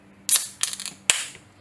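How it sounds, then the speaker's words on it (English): A sharp metallic crack and fizzing hiss of a can of wort being opened, followed by a second quick pop, close up and otherwise quiet. "And then we will just crack this open."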